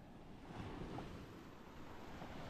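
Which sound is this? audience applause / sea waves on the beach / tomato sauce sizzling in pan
sea waves on the beach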